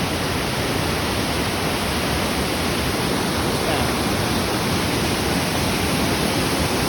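A dense, continuous roar of Krathing Waterfall in Khao Khitchakut National Park, Chanthaburi, Thailand, fills everything, loud and unbroken, like standing close to the falls.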